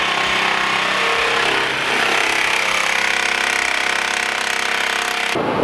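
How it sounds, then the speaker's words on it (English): A Sawzall reciprocating saw cuts off a shock bolt on a Ford E-Series van front suspension, a loud continuous buzzing, rasping metal cut that runs steadily and stops abruptly near the end. "for the shock bolt, we're just going to use a Sawzall and cut it off"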